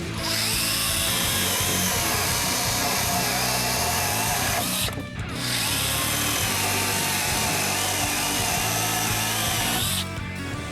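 A Worcraft CHS-S20LiB cordless mini chainsaw cuts wood under load, a loud continuous whining buzz broken by one brief pause midway and cut off near the end.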